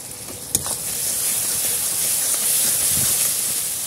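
Spiced masala with chilli powder, salt and beaten yogurt frying in a pan for Bengali Katla fish kalia, giving a steady close hiss with a brief clink at the start.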